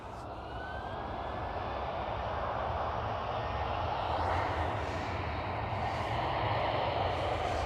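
A KLM Boeing 787 Dreamliner at Amsterdam Schiphol airport gives a steady, broad engine roar that swells slightly toward the end, heard from a distance outdoors with no talking.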